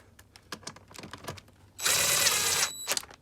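A 12 mm bolt goes into a Supra seat rack: a string of light tool clicks and rattles, then a loud close burst of a power driver buzzing for under a second before stopping.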